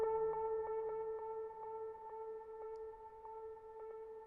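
Synth notes from Bitwig Studio's Dribble note effect repeat quietly over a steady held tone, with short evenly spaced plucks ticking along like a bouncing ball.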